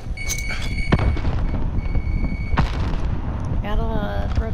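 A grenade blast and gunfire in Call of Duty Warzone, with sharp thuds and booming hits mixed with electronic game tones and a dense, loud rumble underneath; voices talk over parts of it.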